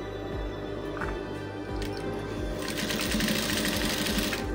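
A sewing machine runs steadily, stitching the neckline of a dashiki. Its motor hum is close and continuous throughout, with a brighter burst of needle clatter in the second half.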